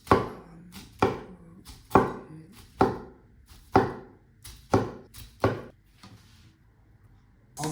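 Knife slicing through a vegan uramaki sushi roll filled with tempura asparagus and tempura capsicum, about ten crisp, sharp cuts landing on a board in a roughly steady rhythm, close and distinct.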